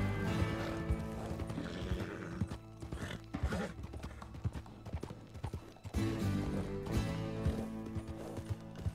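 A horse in the video game Red Dead Redemption gallops with a steady, loud clip-clop rhythm and whinnies, set against a dense music-like backdrop, with no speech.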